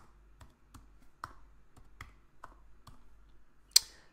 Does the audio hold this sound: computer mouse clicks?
yes